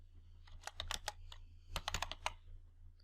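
Keystrokes on a computer keyboard while entering a title into a spreadsheet dialog box, two quick bursts of close, crisp clicks separated by a short pause, with no talking.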